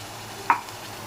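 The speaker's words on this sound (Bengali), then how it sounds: "ভালো করে মশলাটাকে তেলে নাড়িয়ে নিতে হবে যতক্ষণ না মশলা থেকে তেলটা বেরোচ্ছে" Spices frying in oil for paneer bharta are stirred in a pan, a low steady sizzle with a single short scrape of the spoon standing out near the middle.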